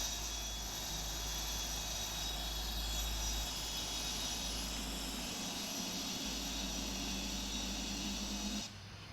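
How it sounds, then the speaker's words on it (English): Engines of a Boeing 747-8F run through auto start in the PMDG flight simulator, a loud steady roaring drone that holds throughout and drops off abruptly near the end. "so now we have the engine auto start, the fuel flow is injected"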